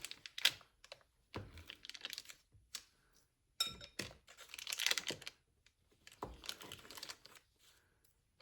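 A knife cuts a very cold, hard block into little pieces for homemade heart-shaped biscuits, giving scattered dry scraping and crunching strokes with short pauses between them.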